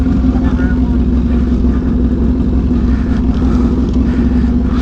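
A Suzuki Hayabusa superbike engine roars at Island Dragway during a drag strip test-and-tune session, a loud, close, steady drone that holds without a break.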